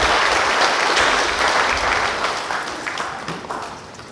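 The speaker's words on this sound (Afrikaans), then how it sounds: "Ja, dis net 'n lekker hande klap." Church congregation applauding during a service, a full, loud round of hand clapping that holds steady, then gradually thins and fades toward the end.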